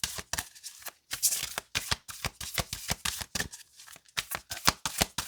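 Tarot cards riffled and shuffled by hand up close, rapid papery bursts of flicking and slapping in quick irregular runs with short pauses between, no talk.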